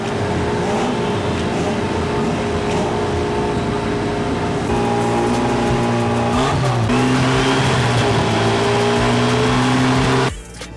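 GT4 race cars, a mix of Alpines and Porsche Caymans, roar past at a circuit, with loud sustained engine drone and shifting revs, close and continuous before cutting off abruptly near the end; no talk.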